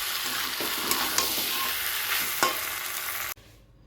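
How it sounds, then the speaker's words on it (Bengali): Pointed gourd and shrimp curry stirred in a pan, steady sizzling with a few soft spatula knocks before the sound cuts off abruptly near the end. "এটা একটু নাড়িয়ে নিই"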